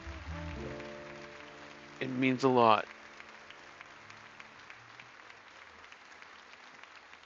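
A short burst of applause sounds faintly behind a person speaking, then gives way to a soft, steady background hiss.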